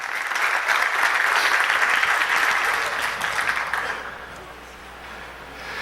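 Sustained applause from a large church congregation at a New Year's Eve service, steady and full for several seconds before thinning out, with a few voices mixed in.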